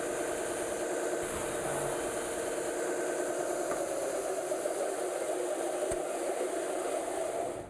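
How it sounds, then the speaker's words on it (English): A belt disc sander runs continuously with a steady whirring hum while a cleaning stick is rubbed against the spinning disc, adding faint hissy scraping over the motor drone. "Simply turn your sander on,"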